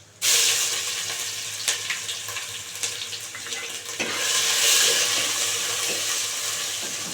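Ginger paste drops into hot oil already tempered with dried red chillies and radhuni, setting off a loud, steady sizzle that flares up partway through, with no talking.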